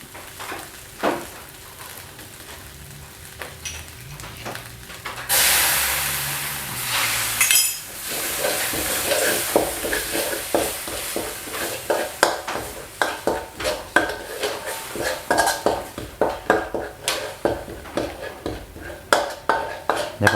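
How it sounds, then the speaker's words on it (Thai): Thai curry paste is stir-fried in a pan over medium-low heat for a spicy tilapia curry. A spatula scrapes and clinks against the pan in a steady rhythm under a soft sizzle, after a brief splash of added water. "เราจะใช้ไฟกลางค่อนไปทางอ่อนในการผัดเครื่องแกงนะครับ"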